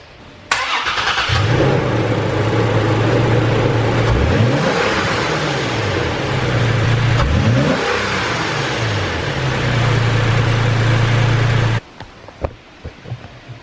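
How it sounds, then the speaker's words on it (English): A Toyota Tacoma TRD with a cold air intake, heard up close under the open hood, starts and settles into a steady idle, then revs sharply twice before dropping back to idle and shutting off. "Start it up, rev it a couple times, and let you guys see what it sounds like."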